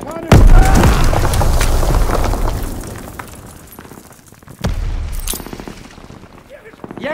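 A grenade explosion and gunfire in Call of Duty WWII: a loud boom opens the stretch, sustained battle gunfire follows, and a second heavy blast comes near the middle, with shouting voices mixed in.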